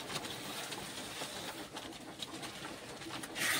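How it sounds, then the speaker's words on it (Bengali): Pigeons coo softly while feeding outside a loft, a faint low murmur with light pecking and scattered taps, quiet and steady, no talking. "সো গাইস আমাদের পায়রাগুলো এখন খাচ্ছে"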